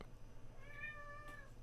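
A cat gives a single drawn-out, wavering meow, close by and fairly quiet against a low steady background hum.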